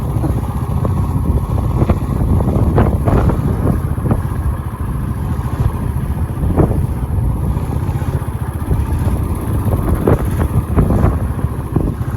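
Strong wind buffets the microphone at a hillside castle site, a constant loud low roar with gusting thumps and rumbles, heavy and unbroken throughout.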